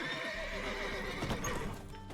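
Horses whinny and snort in The Witcher 3, several neighs layered over continuous hoof clatter and ambient game sound, loud and near with no speech.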